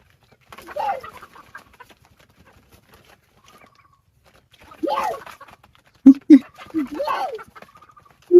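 Chickens cluck in short bursts close by, while people talk over and between the calls.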